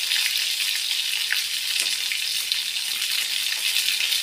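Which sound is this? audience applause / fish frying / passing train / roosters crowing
fish frying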